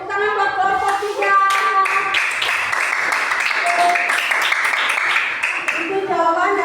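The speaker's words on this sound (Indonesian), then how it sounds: "tepuk tangan buat kelompok 3" A classroom of pupils claps for a group in a lesson, a sustained round of dense clapping. Children's voices and chatter are mixed in.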